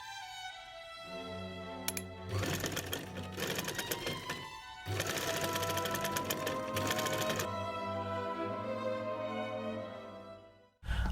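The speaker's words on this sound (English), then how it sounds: "I machine quilted the puff sleeves" Sewing machine quilting thick velvet puff sleeves for a custom doll costume, running in two long loud bursts of rapid stitching with short pauses between, set against a steady background hum and no talk.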